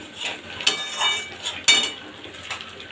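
A spoon scrapes and clanks against a pot as masala is cooked down with a splash of mutton stock, with two sharp metallic knocks over a soft, steady sizzle.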